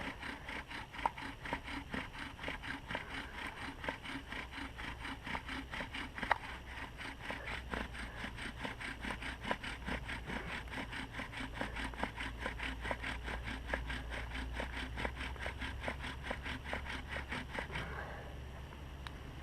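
Rhythmic wooden rubbing and scraping of a bow drill spinning into wood, a fast steady back-and-forth grinding that continues close up for a long stretch, then stops near the end.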